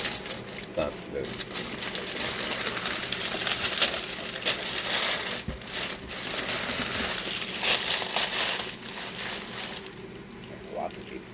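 Sheets of paper crumpling and crinkling in a steady, close rustle that runs through most of the stretch, with birds cooing faintly behind and a few light clinks.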